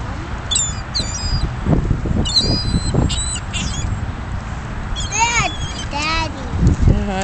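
Seagulls calling over a store parking lot as children feed them, with several sharp, nearby cries in bursts amid steady outdoor noise and children's voices.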